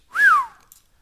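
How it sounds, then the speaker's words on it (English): A person gives one short whistle that swoops up and then glides down, clear and close, lasting under half a second with nothing else around it. "That was a good whistle."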